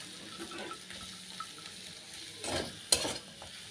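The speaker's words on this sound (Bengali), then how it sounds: "এবারে ভালোভাবে সবজির সঙ্গে মিশিয়ে দেবো" Quiet pan sounds of stirring fried egg with vegetables and scraping with a faint sizzle, ending in a couple of sharper clanks of a spatula against the pan.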